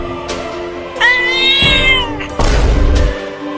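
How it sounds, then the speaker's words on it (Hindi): A cat meows loudly and close by in a comedy sketch, giving a few drawn-out, wavering cries, with rustling and thumps mixed in and no talking. "अरे बाप रे, इतनी बड़ी बिल्ली कहाँ से आ गई"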